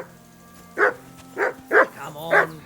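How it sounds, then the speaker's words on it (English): A dog barks four times in Kingdom Come: Deliverance II, the barks spaced unevenly and standing out sharply over a quiet background hum. "call off that dog and then we can talk"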